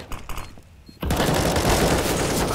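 Rapid gunfire from a Counter-Strike match on the Mirage map bursts in suddenly after a quiet second of faint game sounds, then continues as loud, dense, overlapping automatic shots.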